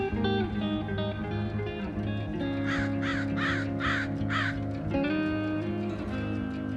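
Crows caw in a city setting: four harsh calls in quick succession at moderate distance, with steady low background noise and no speech.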